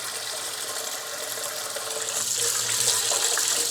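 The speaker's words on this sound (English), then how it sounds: "the first thing that we need to do is rinse our rice really, really well. So cold water." Cold water runs steadily from a kitchen tap over white rice being rinsed, a continuous splashing gush that grows slightly louder and fuller toward the end, with no voices.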